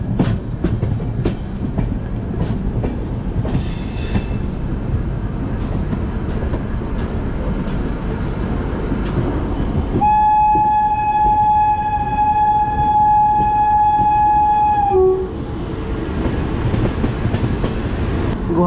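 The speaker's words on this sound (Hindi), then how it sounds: "देख लीजिए ट्रेन हमारी पहुंचने वाली है अभी न्यू बोंगाईगांव रेलवे स्टेशन।" Heard from on board, the Rajdhani Express rumbles and clatters steadily as it nears New Bongaigaon station. A long, loud sustained horn-like tone sounds partway through, then the running noise continues.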